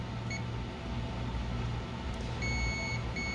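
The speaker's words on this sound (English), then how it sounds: "That is continuity mode. Beeps when the two are connected," A multimeter in continuity mode gives thin, high electronic beeps during a circuit board repair. A brief chirp comes early, then a longer tone, a short break and another tone, all over a steady background hum.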